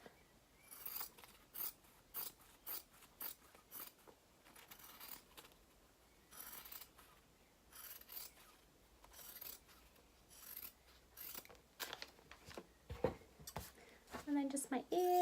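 Scissors snip through fabric cut for a drawstring bunny gift bag in repeated short bursts with brief pauses between, close and crisp, with soft rustling of the cloth near the end.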